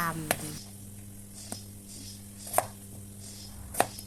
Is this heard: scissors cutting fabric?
no